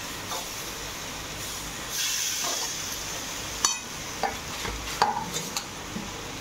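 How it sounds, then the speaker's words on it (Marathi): Raw green mango jam being stirred in a pot, giving soft, faint scraping and stirring sounds with a few sharper clinks of the spoon against the pot, no talking. "सतत त्याला फिरवत राहायचं, उलटं पालटं फिरवत राहायचं"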